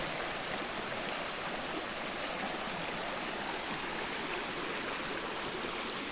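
Steady rushing of a mountain stream over rocks on a nature walk, a constant broad wash of flowing water heard close and alone with no voices.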